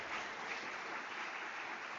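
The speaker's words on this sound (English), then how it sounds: "We can give them a round of applause, please." Applause at the closing ceremony of the 2025 Unisa Innovation Festival, a steady wash of many hands clapping at moderate distance, fairly faint and even throughout.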